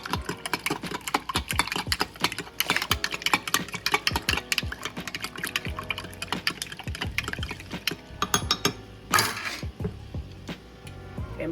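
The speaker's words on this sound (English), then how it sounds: "it says to stir really well" Seasoning mix is stirred into a cup of water, a spoon clinking and scraping rapidly against the container in a busy, steady rhythm, close by, with no talking.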